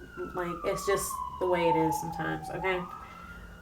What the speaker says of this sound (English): I'm so sorry about that siren.